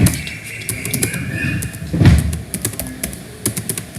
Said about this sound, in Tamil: நான் வந்து இப்போ டைப் பண்ணுறேன்